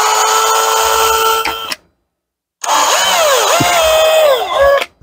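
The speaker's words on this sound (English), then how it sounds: "when you're drilling, so I don't want to accidentally drill through into my nice new piece" A power drill whines at high pitch, stops for about a second, then whirs again with its pitch dipping and rising as it bites into plastic.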